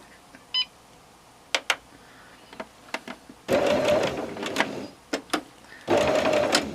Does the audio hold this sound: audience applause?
no